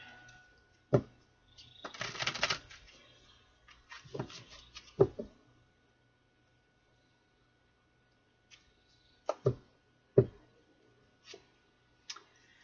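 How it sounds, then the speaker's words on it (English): Tarot cards shuffled by hand in a quiet room: a dense papery riffle of about a second, followed by scattered soft taps and clicks of cards being handled and squared, close and fairly quiet. "Let's get one more shuffle here"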